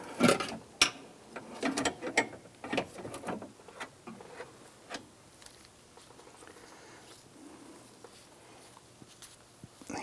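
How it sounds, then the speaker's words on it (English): A door lock actuator is worked loose from inside the door of a 1994-2004 Ford Mustang, giving scattered plastic clicks, ratcheting snaps and scrapes, busier at first and then sparse and quiet. "Go ahead and work the actuator out of the door."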